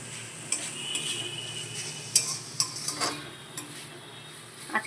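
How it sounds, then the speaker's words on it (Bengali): Choddo shaak, a dish of mixed leafy greens, being stirred in a pan: a soft background hiss broken by scattered light scrapes and clinks of a spoon against the metal, quiet and close, with no voices. "এবার একটু নাড়াচাড়া করি, এগুলো নাড়াচাড়া করে এক জায়গায় করে ব্যাস হয়ে যাবে।"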